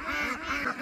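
Young ducks, about 45 days old, on a farm quacking in a quick burst of overlapping nasal calls, close and loud with no talk.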